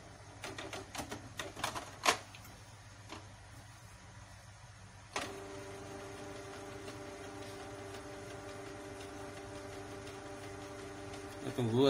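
An inkjet printer runs a cartridge cleaning cycle after its black and yellow inks fail to print, giving a steady mechanical hum with a few clicks and clacks, louder motor whirring toward the end.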